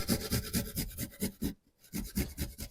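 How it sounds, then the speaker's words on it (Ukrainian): Rhythmic rasping scrapes of garlic on a grater, quick repeated strokes close up, with a brief pause before the grating resumes. "Перед тим, як нарізати картоплю, приготую для неї заправку натру часник"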